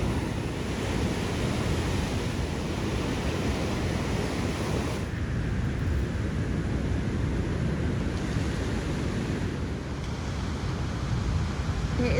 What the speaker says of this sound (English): Really, really big waves.